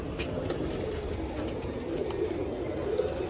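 Pigeons cooing on a small farm where hens and a rooster are kept, a steady low murmur of overlapping coos running throughout at close range, with no voices.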